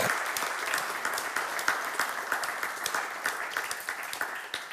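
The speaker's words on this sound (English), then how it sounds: "That clap was too small for me." A congregation at a men's conference breaks into steady applause, dense overlapping claps filling the whole stretch at an even, fairly loud level with no speech over it.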